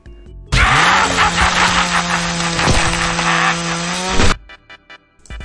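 Ghost's chainsaw from The Mimic game trailer roars in loud and sustained for about four seconds, a harsh buzzing whine with grinding texture, then cuts off abruptly into quiet.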